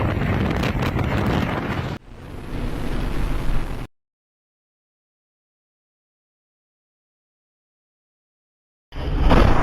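A heavy wind gust tears through an outdoor area, roaring as a loud, rough buffeting against the microphone for a few seconds, then cutting to silence before the roar returns abruptly at the end.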